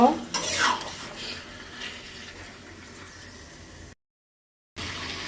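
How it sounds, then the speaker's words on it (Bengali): Chicken is stirred and sautéed in a small kadai, a spatula scraping and clattering against the pan amid a soft sizzle, loudest at the start and then settling into quieter stirring before a brief silence. "কিছু সময় একটু কষিয়ে নেব।"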